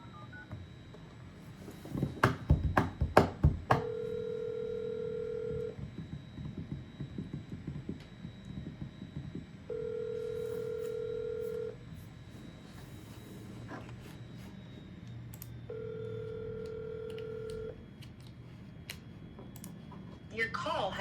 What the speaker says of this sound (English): I'll call Carmen from my cell phone then.